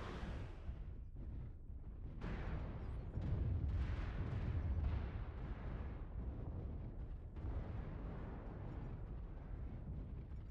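Incoming missiles exploding in a mech video game, a dense run of heavy booms and rumbling blasts over about ten seconds, muffled and distant, with brief gaps between impacts.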